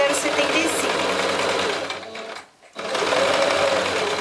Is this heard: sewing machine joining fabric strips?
yes